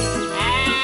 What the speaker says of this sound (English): Some sheep have wandered off from the farm.